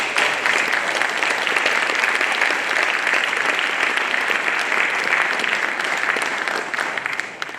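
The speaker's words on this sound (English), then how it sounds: "Graduates, please join me in giving them a round of applause to express our gratitude." Sustained applause from a large audience at a baccalaureate ceremony for graduates, dense and steady clapping at a loud level throughout, easing slightly at the very end.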